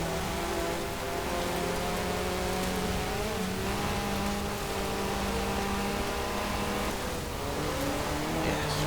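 A Ford Escort RS Cosworth in Forza Horizon 4 drones steadily throughout, its engine note holding a constant pitch with a hissy wash like rain spread evenly over everything.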